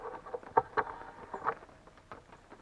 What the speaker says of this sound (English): rain has been coming down all night.